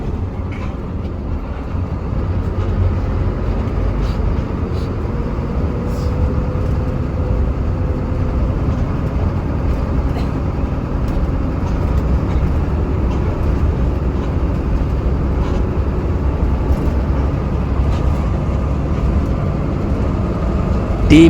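A Sumber Alam front-engine bus pulls away from a roadside restaurant, its engine droning as a steady loud rumble heard from inside the cabin and holding for the whole stretch.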